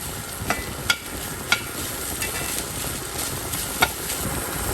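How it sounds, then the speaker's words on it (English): Onions and meat chopped together on a hot griddle for a vegan chopped cheese, with steady sizzling throughout and a few sharp, isolated scraping clicks of a spatula against the metal surface. "We're gonna chop the vegetables, which are our onions, and that meat together."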